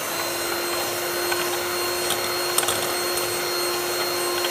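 Biscuit batter with powdered sugar is beaten by machine, a steady, even motorized whine running nonstop at close range, with faint clicks and no voices.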